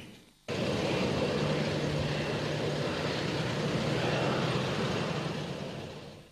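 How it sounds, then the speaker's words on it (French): An airplane landing on the tarmac at an airport in Chad gives a sudden, loud, steady broadband roar that holds for several seconds and eases off slightly toward the end, with no voices. "l'avion transportant les 126 compatriotes expulsés de la République du Congo a amorcé son atterrissage sur le tarmac"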